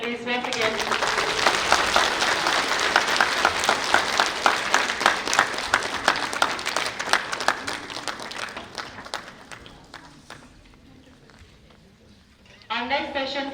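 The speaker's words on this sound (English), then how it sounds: "Students, let's give a round of applause for sir, please, once again." Students applaud a space-agency project director at an institute event: sustained, loud, dense clapping that gradually fades over about ten seconds, then a voice begins speaking.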